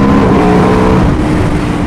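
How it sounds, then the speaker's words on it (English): Aprilia RSV4 1100 Factory V4 motorcycle pulling hard in third gear under full throttle, a loud, continuous engine roar with strong wind rush, close and steady throughout with no talk. "That third gear, I just wound it right open and it pulled really nicely."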